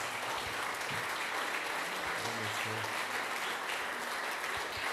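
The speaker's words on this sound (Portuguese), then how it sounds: "Você pode aplaudir Jesus mais uma vez?" A church congregation bursts into loud, continuous applause, a thick steady roar of clapping hands filling the room for several seconds without letup.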